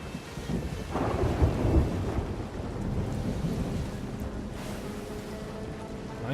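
Thunderstorm in the pirate sailing game Sea of Thieves, with a broad rumble of thunder swelling early and steady rain and wind washing over a ship at sea, loud and continuous throughout.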